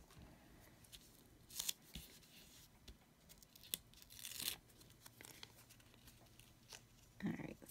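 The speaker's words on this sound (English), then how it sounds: "Let me tear off a piece of big tape here." Wide sticky tape is torn from a roll while a Christmas cookie card is crafted: a few quiet, crackly rips in separate short bursts, with softer rustling and handling noises between them.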